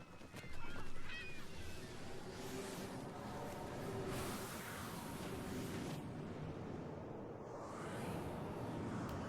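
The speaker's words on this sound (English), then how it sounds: "God, that's a lot of seagulls." Seagulls in the video game Final Fantasy 8 give repeated honking calls, strongest near the start, over a constant hissy ambient background at low volume.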